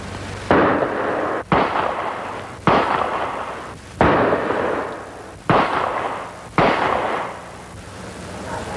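Gunshots ring out during police firearms training, six loud, sharp reports spaced about a second apart, each with a short echoing decay and no talk between them.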